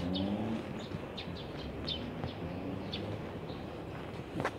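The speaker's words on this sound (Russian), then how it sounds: "Слышите, как птички поют." Birds chirping and cooing outdoors, short scattered calls repeating over a soft background hum with a faint passing car.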